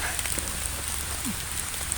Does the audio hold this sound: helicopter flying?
no